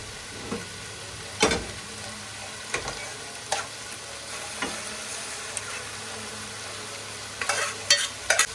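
Mushrooms and mixed vegetables fry steadily in a pan on a home stove, a constant close sizzle broken by several sharp scraping clatters as they are stirred.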